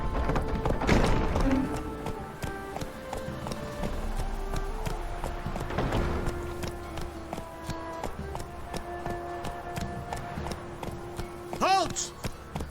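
Roach, a horse in The Witcher 3, galloping along with a steady run of hoof clip-clops mixed with game ambience and music, plus a brief voice near the end.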